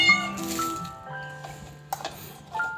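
A hungry cat meows insistently several times, close by, with light clinks and rustling in the background.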